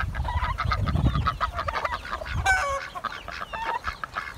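Chickens cluck and squawk in a flurry close by as a dog chases and herds them, with sharp alarmed calls and scuffling rising and falling.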